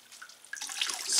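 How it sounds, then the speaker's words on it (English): Water drains and splashes from a scoured BFL wool fleece lifted in a sink, starting faint and swelling into a close rush of trickling water. "I'm going to lift it gently, and it's going to drain"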